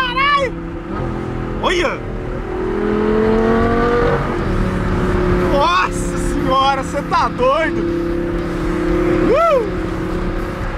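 An Audi R8 engine revs hard at night with rising and falling whines and sharp throttle blips, loud and close, while people exclaim excitedly over it.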